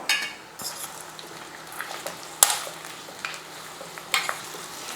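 Finely cut bitter gourd sautés in oil over a low flame: a quiet, soft sizzle broken by occasional sharp spatula scrapes and taps against the pan, with no talking.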